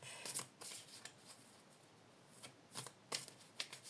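A deck of tarot cards is cut and shuffled during a card reading, giving soft, brief papery riffles and flicks in scattered bursts against a quiet room with no talking.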